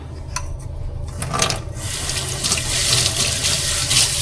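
Ginger being washed under a running kitchen tap, a steady close splash of water with brief clattering handling at the start, continuing loud without talk.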